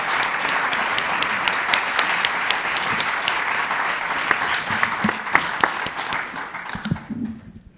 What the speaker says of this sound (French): je crois qu'on peut faire une ovation.